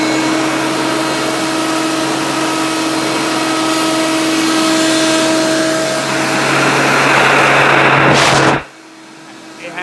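A Hoover PowerMax Supreme U3737-930 upright vacuum runs in tool mode with a loud steady whine and hum, swelling near the end before cutting off abruptly.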